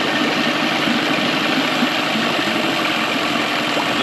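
An outboard motor idling steadily and loudly, a constant low rumbling drone with no change in pace, no voices.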